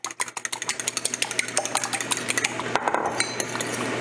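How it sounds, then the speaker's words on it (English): A single egg whisked quickly with a fork in a bowl for bang bang shrimp batter: loud, close, rapid clinking beats in a fast, steady rhythm, with no voices. "you'll see I have 1 egg here. I just gonna wanna give that a quick beat."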